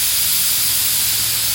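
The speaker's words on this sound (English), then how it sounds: "Just do a little test spray and you're good to go." A spray gun test-sprays primer at around 30 psi, giving a loud, steady airy hiss that holds evenly throughout with no talking.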